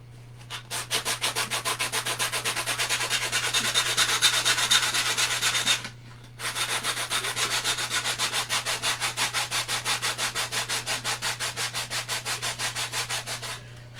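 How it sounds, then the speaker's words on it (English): Wood sanded by hand in fast, even back-and-forth strokes, a close rhythmic scratching that pauses briefly midway, then resumes at the same steady pace. "sanding, a little more."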